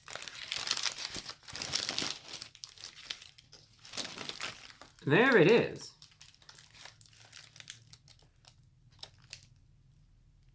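The double paper wrapper of a Taco Bell grilled cheese burrito crinkles close up in one loud, brief burst of rustling. It is surrounded by softer handling noises, and someone speaks briefly.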